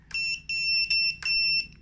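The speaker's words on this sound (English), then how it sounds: "And I also assigned a buzzer for it" A BetaFPV Beta75X drone's buzzer sounds four loud, shrill beeps in an even on-off rhythm, each about a third of a second long, close by with no speech.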